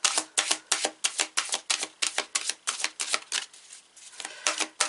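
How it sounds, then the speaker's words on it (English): Tarot cards are shuffled in a quick, regular rhythm of crisp riffling bursts, close and continuous with a brief softer patch near the end. "We're back to expert level shuffling."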